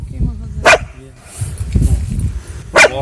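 A dog on the street gives two sharp, loud barks a couple of seconds apart, with talking and street noise in between.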